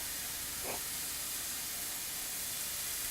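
Onion, ginger, green chili and curry leaves sizzle in hot oil in a pan for Kerala egg curry, giving a steady, even hiss with no pause throughout.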